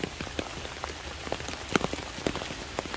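Steady rain patters at an old tomb site beneath a large thị tree, with scattered individual drop taps standing out over a soft, even hiss, fairly quiet and close.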